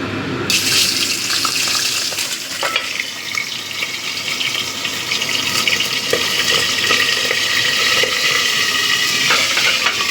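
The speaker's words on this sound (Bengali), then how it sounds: "তেলটা ভালো মতো গরম হয়ে গেছে এবার আমি মাথাগুলো ভেজে নেবো" Fish heads fry in hot oil for a Bengali moong dal dish, producing a loud, continuous hiss of sizzling with crackles and occasional sharper pops. No one speaks, and the sound stays steady and close throughout.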